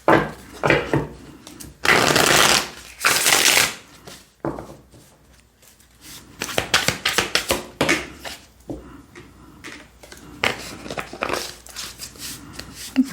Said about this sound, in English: Making sure it's shuffled good.